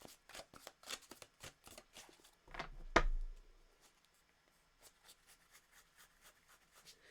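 Tarot cards handled and laid out on a table: a run of quick soft card snaps and slides, with one louder shuffle or slap in the middle, close and quiet, with no talking.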